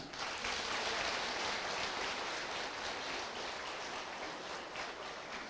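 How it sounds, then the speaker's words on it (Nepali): Applause from an audience at an Organic World Group gathering, a steady, dense wash of clapping that holds at an even level throughout with no voices over it. "उहाँको लागि एकपटक जोरदार ताली"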